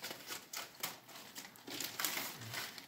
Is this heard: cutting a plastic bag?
yes